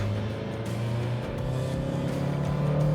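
A 2024 Mazda CX-5 engine gently accelerates, a steady low drone rising slightly in pitch under faint road and cabin noise, heard from inside the car.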